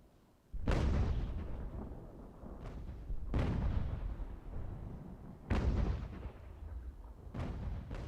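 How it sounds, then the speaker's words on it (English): Artillery fire in the strategy game Ultimate General: American Revolution, four or five deep booming cannon shots spaced a second or two apart, each with a long rumbling decay, loud and without talking. "Does look like the enemy artillery is doing quite a bit of damage,"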